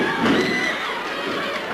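Wrestling arena crowd cheering, a loud, broad roar of many voices that swells early and then holds steady for under two seconds.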